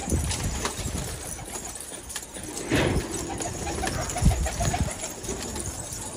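Pigeons in a loft coo softly, with occasional shuffling and a few low thumps from movement, fairly faint and close, with no voices.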